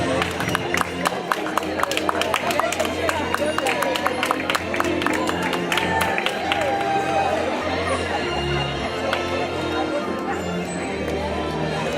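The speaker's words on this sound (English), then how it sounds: "Let's give jazz another round of applause." An audience at a costume word parade cheers and applauds steadily, a dense wash of clapping and crowd noise mixed with babble and a voice over it.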